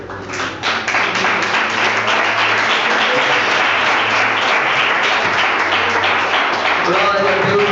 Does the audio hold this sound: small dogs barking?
no